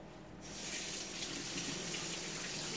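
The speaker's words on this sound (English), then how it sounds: "Let's rinse my hand off there" Tap water running steadily into a kitchen sink while a hand is rinsed under it, a broad continuous splash starting after a brief quiet moment and holding at an even, close level.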